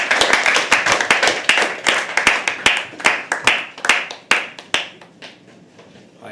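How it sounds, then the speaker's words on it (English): Audience clapping at a live poetry open mic, a dense burst of many hands that thins out toward the end, with sharp individual claps standing out near the close. "Keep clapping until Sir comes."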